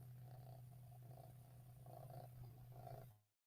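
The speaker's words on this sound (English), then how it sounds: "You hear that purring? He purrs loud." A cat purring steadily and close by, a continuous low rumbling drone with gentle rhythmic swells, ending abruptly.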